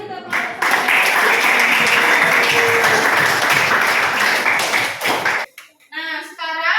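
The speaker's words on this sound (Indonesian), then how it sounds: "beri aplaus lagi sekali" An audience at a teaching practice class session gives a loud, dense burst of clapping that fills several seconds, then cuts off and a voice speaks briefly.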